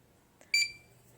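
A single short electronic self-checkout scanner beep in a library, clear and close, with a faint click just before it over quiet room noise.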